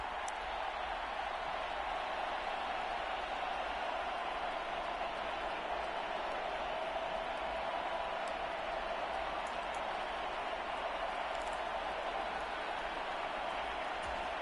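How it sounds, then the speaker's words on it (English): A large football stadium crowd roars steadily during a tense late-game two-point conversion attempt, a dense, continuous wash of cheering and noise that never lets up. "Listen to this crowd now."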